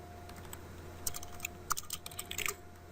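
Keys clatter on a computer keyboard as a command is entered into a Cisco ASA 5510 firewall's command line: a quiet, uneven run of close keystrokes growing busier toward the end, with no voice.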